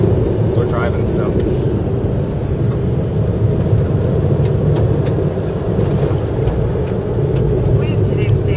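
An Arctic Trucks vehicle drives through Landmannalaugar in Iceland, with a steady, loud cabin rumble of engine and road noise throughout and voices talking over it.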